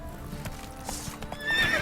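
Roach the horse gallops in The Witcher 3 video game, with rhythmic hoof clip-clops and a whinnying neigh near the end, fairly close amid faint background game ambience.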